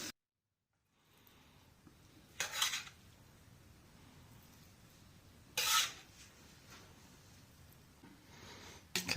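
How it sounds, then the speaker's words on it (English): Cooked millet casserole is mixed with a spoon in a casserole dish, giving a soft continuous scraping and stirring under a quiet room tone, with three sharper clinks of utensil against dish spaced a few seconds apart. "thoroughly mix this stuff together now."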